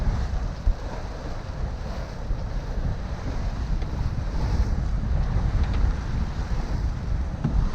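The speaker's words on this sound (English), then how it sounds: "we are now tacking across here to get a good angle to sail in there" A sailboat tacks across toward a fjord in strong wind, with heavy, continuous wind rush buffeting the microphone over the wash of water against the hull.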